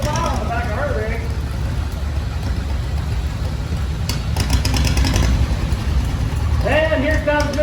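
A 1942 Farmall tractor engine rumbles steadily in an antique farm machinery parade at a county 4-H fair, a continuous low drone running the whole time beneath a commentator's voice on a loudspeaker.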